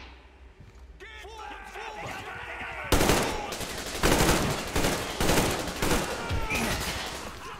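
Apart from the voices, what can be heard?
gunfire in the video game Metro Exodus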